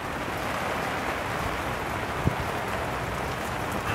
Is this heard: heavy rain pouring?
yes